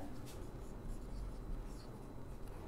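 Handwriting on a board or page while working out an HCF word problem: a continuous soft scratchy rasp of writing lasting a few seconds, close and fairly quiet, with no talking over it.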